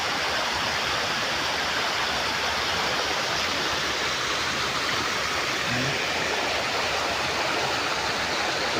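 A fresh water stream where people go bathing rushes in a steady, loud broadband wash that runs unbroken throughout, with no voices over it.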